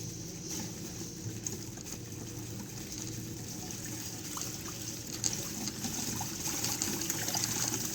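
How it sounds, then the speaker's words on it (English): Water flowing from the Venturi nozzle of a pumped hydraulic bench in a Bernoulli's theorem apparatus, a steady trickling and pattering stream under a constant pump hum, close and moderately loud throughout with no talk. "Now increase the flow rate slowly such that the water coming out from this Venturi nozzle"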